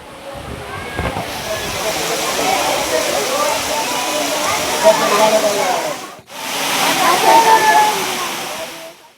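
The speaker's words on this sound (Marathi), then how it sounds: "यावेळी गडावरील पायऱ्याला धबधब्याचं स्वरूप आलं।" Rainwater pours down the stone steps of a hill fort in Maharashtra during heavy monsoon rain, a loud, steady rushing cascade with a brief break before the torrent resumes.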